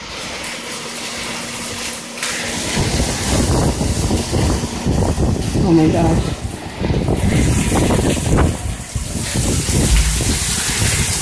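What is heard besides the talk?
heavy rain and wind during a thunderstorm in Naples, Florida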